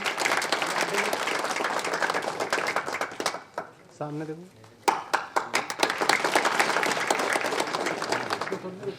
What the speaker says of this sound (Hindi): तालियां बजाएंगे।